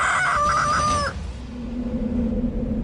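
A rooster crows loudly and close on a farm for about a second, then chickens cluck low in the background under a steady rumbling ambience.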